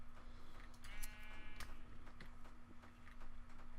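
Sheep in Minecraft give a few brief bleats over continuous background game noise, with a steady hum running underneath.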